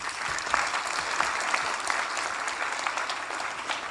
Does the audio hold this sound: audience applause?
yes